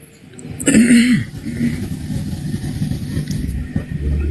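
A single rough cough or throat-clearing burst, close and fairly loud, followed by steady low background rumble.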